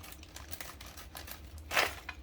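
Scissors snipping open a plastic LEGO VIP promo polybag, a few quiet crisp cuts and a brief crinkle of thin plastic, close up, with no voices.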